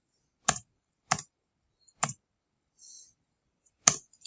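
Four sharp, separate key presses on a computer keyboard, the last one loudest, with a faint scrape between them; no voice.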